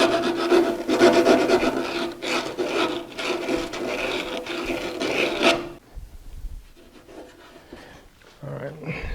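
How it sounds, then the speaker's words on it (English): Sandpaper rubbing by hand to clean out a snug hole in a vehicle firewall for a USB power install: quick, rhythmic, raspy back-and-forth strokes for several seconds, then fainter scraping and quiet handling. "I am going to clean it out with a little bit of sandpaper."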